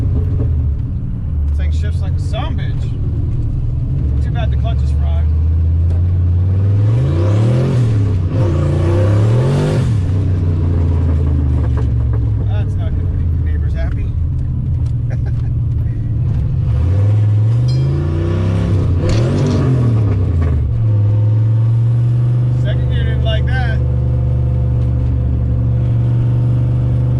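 A manual car with a worn-out, slipping clutch idles and revs hard several times, its engine note sweeping up and falling back in loud surges while someone talks over it.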